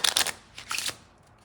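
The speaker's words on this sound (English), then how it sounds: "give the cards a nice shuffle, completely mixing up the cards" A deck of playing cards being shuffled for a magic card trick, two quick riffling bursts of flapping card edges, close and crisp, with no one talking.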